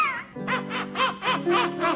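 A voice imitates seagull cries for a cruise-ship gala scene, giving about six squawking, nasal calls in a steady rhythm over soft background music.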